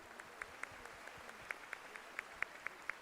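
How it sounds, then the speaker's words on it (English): Scattered audience claps at a fashion show for cancer survivors, a few sharp individual claps standing out over a faint, thin background of applause, fairly distant and quiet. "I hope this audience will truly be very liberal with their claps and applaud them"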